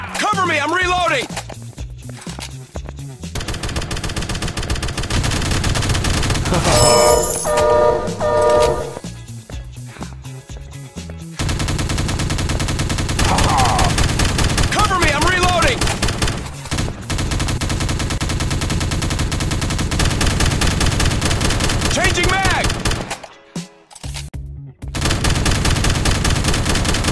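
Rapid automatic gunfire in the mobile FPS shooting game Teddy Bear Gun Strike, loud sustained bursts with short pauses, mixed with game voice callouts.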